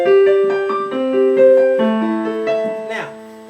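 Solo piano plays the opening part of a song, a steady run of chord and melody notes sounding clearly up close with nobody talking.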